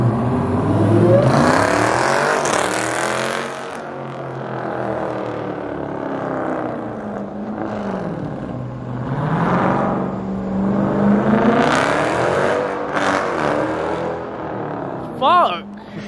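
A Ford Mustang GT350 engine revs up and down in rising and falling sweeps before a launch, the loud exhaust drone swelling twice to a high pitch, with people talking over it.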